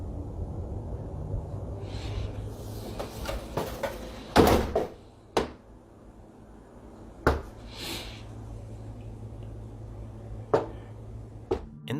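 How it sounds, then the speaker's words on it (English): Sharp knocks on a front door come in scattered single raps and short clusters, loud against a quiet, hissy room background with long gaps between. "you can hear knocking coming from the front door, but when the guy opens it, nobody's there"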